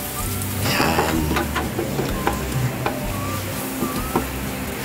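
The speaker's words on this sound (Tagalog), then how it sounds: "Magigisa lang tayo ng bawang." Garlic sautéing in a hot pan as the first step of a Filipino stir-fry of sweet potato leaves, giving a steady crackling sizzle with scattered sharp pops and some stirring clatter.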